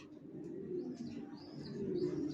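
Racer pigeons of a Johnson line in a home loft coo softly and continuously, low and faint, with a few light chirps above.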